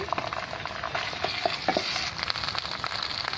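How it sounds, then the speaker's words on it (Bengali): Onions fry in oil for a koi fish curry with a continuous crackling sizzle, while a spatula stirs and scrapes steadily at close range. "পেঁয়াজটাকে ভালো করে ভেজে নেব পুরো পেঁয়াজটাকে আমি ভেজে নিয়েছি"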